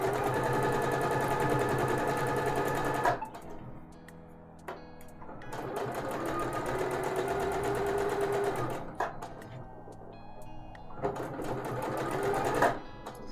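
A domestic sewing machine stitches a sleeve into an armhole at short stitch length. It runs in three close, loud bursts of fast, even whirring, with quiet pauses between them for repositioning the fabric.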